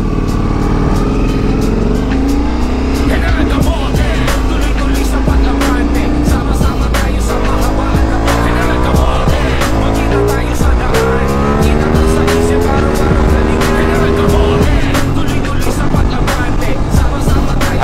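A Ducati motorcycle ridden in sports mode: a loud, close engine that revs and climbs steadily in pitch as it pulls hard through the gears, roaring continuously for the whole stretch.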